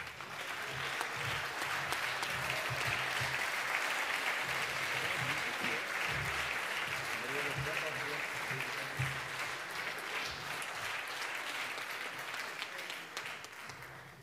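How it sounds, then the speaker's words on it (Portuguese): Audience applause fills a theatre at the closing ceremony of a national theatre competition, loud and steady clapping from a large crowd that holds throughout, with a faint voice or two underneath. "Por isso, um forte aplauso para a Maria da Fonte"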